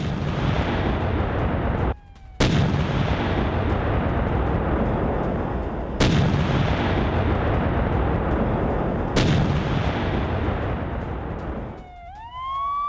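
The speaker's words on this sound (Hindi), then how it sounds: "ओडेसा रीजन में सुने गए जबरदस्त धमाके।" Heavy rumbling blasts from air strikes in the Odesa region fill the whole stretch as a loud, sustained roar, broken by a few sharp cracks and a brief drop near the start, with a rising whistle-like tone at the end.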